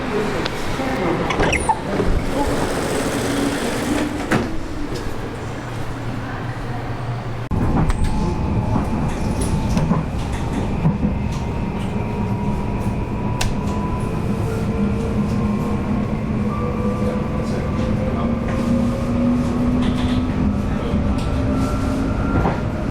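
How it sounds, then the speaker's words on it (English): A sprinter train travels from Ede toward Arnhem Centraal, heard from inside the carriage. A steady rolling rumble shifts partway through, then continues with gently rising motor whines, occasional clicks of the track and faint voices in the background. "I'll be taking that sprinter train over to Arnhem Centraal, and then another sprinter towards Nijmegen"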